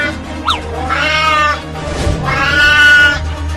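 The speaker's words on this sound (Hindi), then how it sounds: "अरे वो तो एक बिल्ली है" A cat meows twice in long, loud, wailing cries that turn into a caterwaul as it attacks a boy, close by with a steady low hum underneath and no talk.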